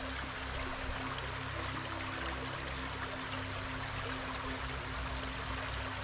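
A stream runs over stones, giving a steady, continuous rushing and trickling of water at moderate level throughout, with no voices.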